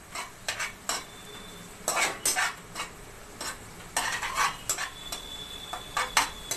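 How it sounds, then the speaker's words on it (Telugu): One onion frying in a pan until brown, with a soft sizzle under repeated bursts of a utensil stirring and scraping against the pan, close and irregular. "ఒకే ఒక ఉల్లిపాయ వేసుకోవాలి. దీన్ని బాగా బ్రౌన్ వచ్చే వరకు వేయించాలి."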